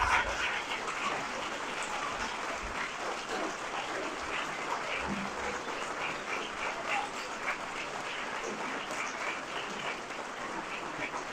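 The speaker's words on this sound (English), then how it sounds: "I would ask all of you to please rise and give them a round of applause." A standing audience applauds young speakers, steady dense clapping filling the room at an even level throughout with no voices on top.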